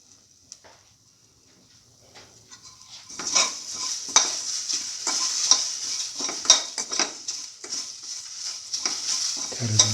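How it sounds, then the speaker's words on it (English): Banana pieces and vermicelli are stirred in a pan, starting quietly and then turning into a busy, continuous sizzle with frequent scraping clicks of a utensil against the pan, all fairly close and without talk. "Thoroughly mix."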